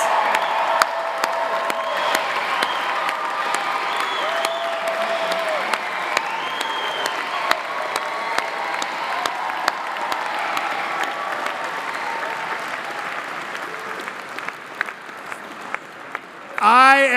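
Sustained applause with scattered cheers and whoops from a graduation ceremony crowd honoring a business school class, long and steady, with talk over it near the end.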